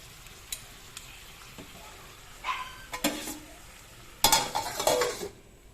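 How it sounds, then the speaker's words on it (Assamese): Sesame chicken fries in a pan as a spatula stirs it, with a low sizzle under several sharp scraping and clattering strokes that grow louder toward the end, close by and with no talking. "গোটেইখিনি মই ভজা যাবলৈ দিম গোটেইখিনি ভালকৈ এতিয়া লাৰি দিলোঁ"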